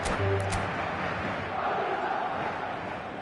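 A passionate stadium crowd roars on a clear evening before a showcase game, a dense, sustained wall of cheering voices filling the space at steady loudness, with a brief higher shout standing out near the start.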